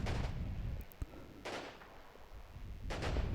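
Gunfire exchanged in a war strategy video game comes as several muffled bursts and one sharp crack over a steady rumbling background, with no talk.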